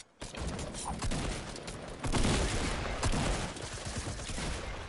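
Sustained rattle of rapid gunfire in a video game shootout, dense overlapping shots rolling on for several seconds at moderate level with no clear speech.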